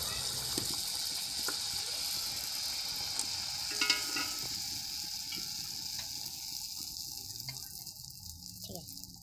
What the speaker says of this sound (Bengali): ফাইনালি মা সব কিছু রেডি করে দেওয়ার পরে পিঠে ভাজা শুরু করা হলো।